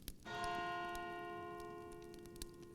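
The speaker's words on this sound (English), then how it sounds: "I heard Whitcomb bells ringing in the new year" A church bell rings out once on New Year's, a clear sustained tone that rings and slowly fades in a quiet setting, with faint ticking clicks behind it.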